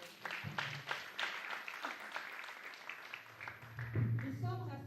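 At a technology conference and summit hall, an audience claps in a moderate, sustained burst of applause, heard fairly faint and somewhat distant, with a speaking voice over it toward the end.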